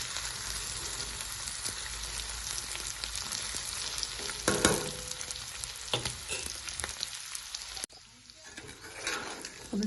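Wild boar meat frying in a pan for a Nepali dish: a loud, continuous sizzle up close, with occasional stirring scrapes and brief clatters.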